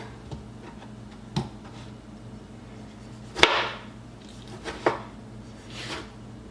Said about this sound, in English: Now we're going to start cutting up our tomatoes.